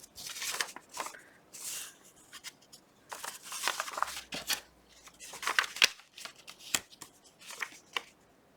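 Scissors cut through a thick paper flap on craft ephemera, giving close, irregular snips and crisp crunching paper rustles with brief pauses, and no voice.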